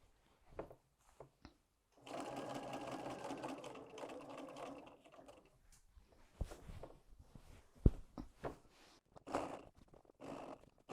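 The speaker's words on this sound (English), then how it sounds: "I'm just using a walking foot and doing straight stitches" A sewing machine fitted with a walking foot runs straight stitches through a quilt with batting, a close, steady mechanical whirring burst of several seconds followed by quieter handling noises and short stops.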